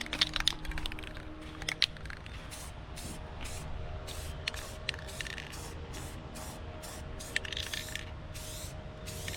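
A spray can of gloss clear coat hisses in repeated short bursts over a car's engine bay, steady and close, with small clicks and rattles between passes.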